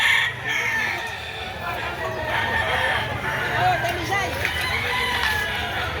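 Roosters crow repeatedly in a busy gamefowl market in Lipa City, Batangas, overlapping calls near and far with clucking and a steady crowd murmur and voices throughout.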